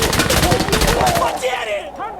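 Gunfire in the PvP shooter Insurgency Sandstorm as a smoke round is launched: a rapid string of loud, sharp shots that thins into a hissing, trailing tail. No one speaks.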